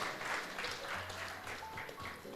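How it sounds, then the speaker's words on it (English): Audience applause at a closing ceremony of a regional sports challenge, a dense patter of clapping sustained throughout, with a voice faintly audible underneath. "a bigger round of applause"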